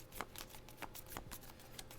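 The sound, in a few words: shuffling playing cards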